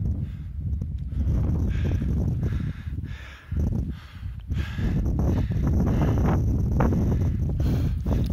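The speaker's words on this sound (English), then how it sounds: "Not sure if I want to fly or not because of how gusty the wind is" Gusty wind on a mountaintop at sunset buffets the microphone in loud, rumbling surges that dip briefly and return, with no talking.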